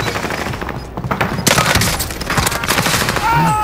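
Loud, rapid machine gun fire in a modern military shooter game, sustained bursts of close gunfire mixed with booms and cracks of battle.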